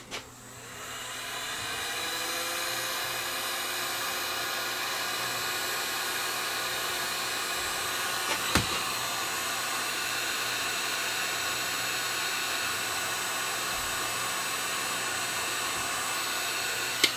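A heat gun blows steadily on heat shrink tubing over the secondary wire leads while an Onkyo Integra A8190 amplifier is converted from 240 V to 120 V; the even, loud airflow roar runs unbroken throughout.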